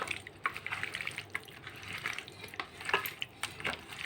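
Chicken pieces for pakoda being stirred by hand with cornflour and yogurt, giving soft wet squelching and slapping sounds in an irregular rhythm, close up with no talk.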